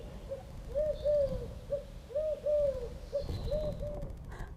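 Repeated owl hoots ring out in a steady series of paired calls, moderately close and clear over a soft background hum, one of several animals found around Memphis.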